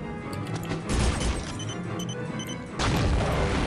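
Grenade blast in the shooter game Soldier of Fortune: two loud, broad booming bursts, one near the one-second mark and a second later on, each with a rumbling tail over constant game noise.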